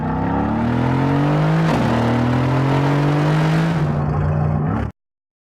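A 2017 Porsche Panamera's engine runs with a loud, steady exhaust drone that rises slightly in pitch around the second mark, then settles and cuts off abruptly near five seconds.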